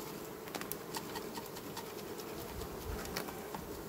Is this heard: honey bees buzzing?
yes